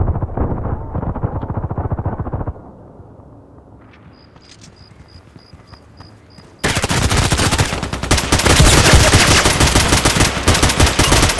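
AK-12 assault rifle fire in the shooter game Contract Wars comes in loud rapid automatic bursts, then a quieter lull with a faint beeping, before a long sustained stream of shots.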